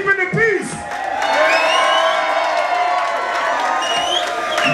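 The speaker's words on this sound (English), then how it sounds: "Give yourself a round of applause for keeping the peace." Club crowd at a Bone Thugs-N-Harmony show in Iowa cheering, whooping and shouting loudly and steadily, with scattered claps, as the noise swells and holds throughout.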